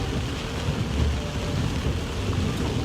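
Heavy rain during a storm, a dense, steady roar of downpour with a deep rumbling undertone, loud and continuous with no talk.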